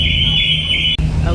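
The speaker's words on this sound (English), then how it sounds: "because we're rolling back and forth, car alarms are going off" Car alarms blare aboard a rocking ferry, a steady high electronic tone over engine rumble that cuts off abruptly partway through, with the vessel's drone continuing after.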